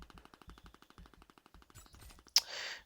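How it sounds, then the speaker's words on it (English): Rapid automatic gunfire in the Warface GO mobile shooter comes from behind. Short, evenly spaced shots rattle off in a steady stream, then end in a sharp, louder crack followed by a brief hissing burst. "Someone's shooting me from behind"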